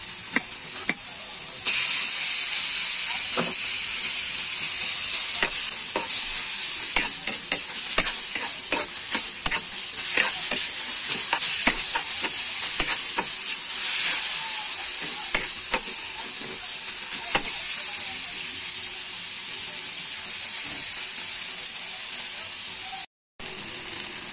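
Meat for ginisang ampalaya dropped into a hot pan with tomatoes, frying in a loud, continuous sizzle with bursts of crackling and stirring scrapes throughout, briefly cutting out near the end.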